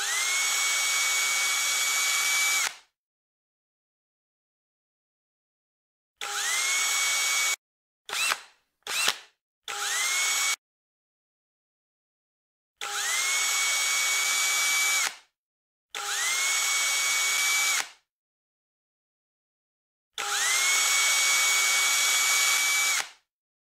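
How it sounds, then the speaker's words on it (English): A power drill bores pilot holes through a top board for number 8 by 1 inch stainless steel screws on a jon boat fish finder mount, in loud, steady whirring bursts of about two seconds, with a cluster of quick short blips in the middle. "Using the top board as a guide, drill pilot holes for each screw."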